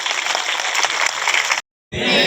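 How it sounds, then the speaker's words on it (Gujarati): Enthusiastic applause from a crowd at a public religious gathering on de-addiction. The dense clapping breaks off abruptly for a moment, then resumes strongly. "જોરદાર તાળીઓથી વધાવીએ."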